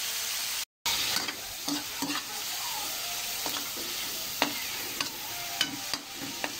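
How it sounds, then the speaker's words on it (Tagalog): Squid and garlic frying in a pan for adobong pusit, a steady close sizzle with occasional stirring scrapes and light clinks, no talking. "Yan, medyo pirituhin lang natin ng konti."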